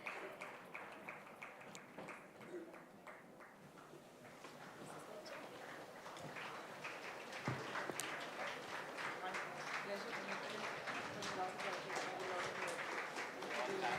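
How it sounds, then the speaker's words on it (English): Applause from a conference audience builds gradually as speakers take the stage at an education forum, thin at first and then becoming steadier and denser toward the end. "Ladies and gentlemen, a loud round of applause as we have our speakers taking to the stage."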